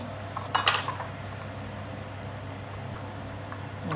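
A metal spoon clinks briefly against a pot while preparing taro for Bubur Chacha, a few quick close clinks near the start, then only a low steady background hum.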